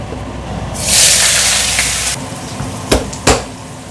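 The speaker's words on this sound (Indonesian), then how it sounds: "ini ikan layur yang digoreng seperti ini" Hairtail fish frying in hot oil, a broad steady sizzling hiss that swells loud then eases off, followed by two sharp clattering knocks near the end.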